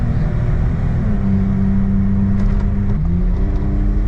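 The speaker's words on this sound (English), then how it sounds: "When that turbo kicks in, bro, I'm not gonna lie, this thing is actually kind of quick." Turbocharged engine of a Mitsubishi Bravo kei van with automatic gearbox accelerating hard, a steady droning hum rising in pitch with audible shifts in tone, heard from inside the cabin.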